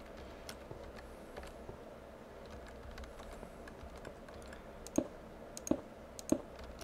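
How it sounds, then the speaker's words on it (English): Three sharp clicks from a worn computer mouse with a failing right button, heard near the end over steady keyboard typing and a low background hum. "I think I need to get myself a new mouse here sometime. The right mouse button's kind of wearing out"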